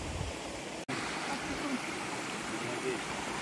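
A waterfall roars as a steady, broad rush of falling water, loud and continuous, with a brief dropout near the start.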